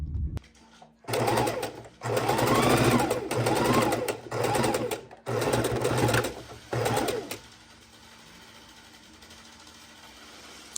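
A sewing machine stitches quilt half-square triangles in about six separate bursts of steady, close whirring, with short pauses between runs and a quieter room tone afterward.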